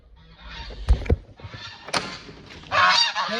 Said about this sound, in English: Hear my geese at the door.